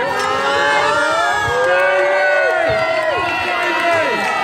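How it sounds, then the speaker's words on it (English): A live stage show crowd at Dreamland in Margate cheers and whoops loudly and continuously, with shouts rising over a dense, steady roar of voices. "And the crowd go wild."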